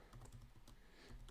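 Typing on a computer keyboard, a quick run of soft, close key clicks at an uneven rhythm over a faint, steady room hiss, with no talking.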